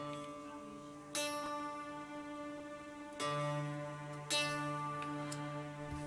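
Ambient synth pad from Ableton Live's stock Space Pad preset, a sustained tonal drone whose chords shift three times, each change bringing a soft swell, heard alone and fairly quiet.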